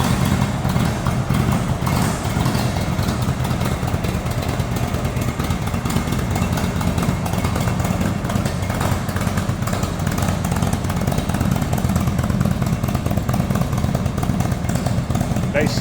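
A 2015 Indian Roadmaster touring motorcycle engine runs at a steady, loud, close idle, a continuous throaty rumble with no pauses.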